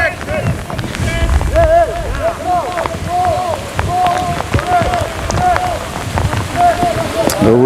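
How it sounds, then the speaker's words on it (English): Heavy rain pelts down during an outdoor football game, a loud constant hiss and patter throughout, with a commentator talking over it and crowd or field noise beneath. "The rain is becoming heavier and heavier here."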